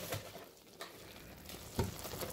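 Toffee bubbling and frothing in a pan while being stirred, giving a continuous soft sizzle with irregular scraping strokes of the spoon, heard close up and at low volume.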